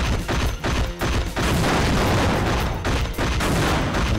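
Bursts of rapid enemy machine gun fire in the PlayStation 1 shooter CT Special Forces, loud and continuous with brief gaps between volleys.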